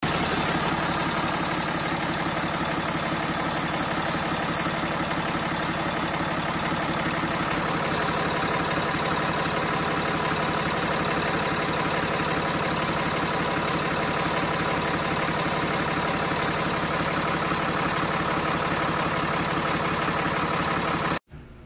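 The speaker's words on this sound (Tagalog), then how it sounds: "isprehan natin ng tubig yung belt. At pakinggan nyo mabuti mga buddy kung may nagbabago." A car engine idles steadily and close by while water is sprayed onto its drive belt during belt troubleshooting, a constant mechanical hum with a high whine running throughout before cutting off abruptly at the end.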